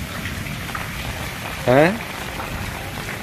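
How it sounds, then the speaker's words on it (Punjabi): Steady rain patters down in a constant close hiss, with a voice briefly speaking partway through. "ਕਿੱਦਾਂ ਲੈ ਰਹੇ ਮੀਂਹ ਦੇ ਨਜ਼ਾਰੇ ਅੱਜ"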